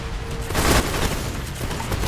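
Gunfire in the video game Nukes: a burst of shots and a heavy booming impact rise out of a constant roar of game noise, with more scattered shots following.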